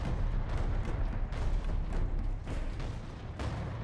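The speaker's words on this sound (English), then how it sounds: "There's a lot of orcish artillery here." Orc artillery in Warhammer 40k: Space Marine rumbles as a dense, continuous barrage of low booms and thuds. Blasts repeat and overlap throughout, staying loud and steady with no talking.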